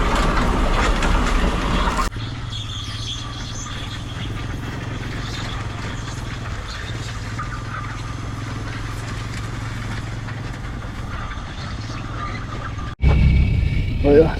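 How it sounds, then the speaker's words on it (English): A winch truck drags a shipping container house across the ground in a steady, loud mechanical grind and engine drone lasting most of the stretch, with a harsher burst of louder noise near the end. "got the winch truck here. We're gonna try to drag it there."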